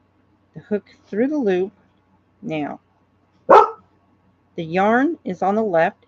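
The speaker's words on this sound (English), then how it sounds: "I'm sorry about my dog." A dog barks indoors during a beginner crochet lesson, one sharp, loud bark standing apart between stretches of a woman's close, steady talking.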